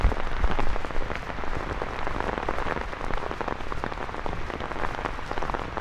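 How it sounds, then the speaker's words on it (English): Rain falling outdoors, a dense steady patter hitting surfaces nearby, loud and continuous, with no voices. "Oops, caught in the rain."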